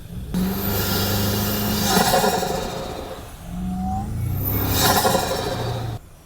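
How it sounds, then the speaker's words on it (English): A stock Toyota truck engine breathing through a snorkel, revving in two long surges with a whooshing intake, a high whistle rising at each peak and a brief blow-off hiss between, close and loud with no talk. "Honestly, I've never had a vehicle stock that sounds like this."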